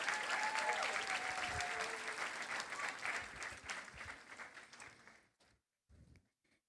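A graduation crowd applauds the class of 2026 valedictorian, a dense burst of clapping that fades out over several seconds, leaving near silence with a few faint sounds at the end.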